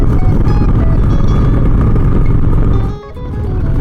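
Honda Shadow 750 ACE motorcycle on the road, its engine droning loud and close with steady wind rush, then briefly easing off before the throttle builds again.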